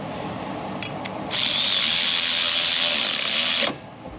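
A tool works a nut on the rubber driveshaft coupler of a Jaguar XF, with a short click followed by a loud, steady mechanical whir of about two seconds that stops abruptly.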